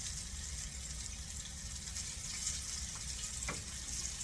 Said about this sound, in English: Just look how it's frying up very quickly.